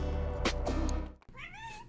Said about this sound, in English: My cat has come to say hello.